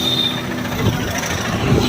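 A train stands stopped on a railway overbridge in the Eraniel area, giving off a loud, steady rumble and mechanical hum with a faint high whine over it, close and unbroken throughout.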